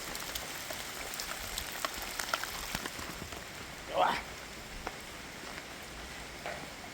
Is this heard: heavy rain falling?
yes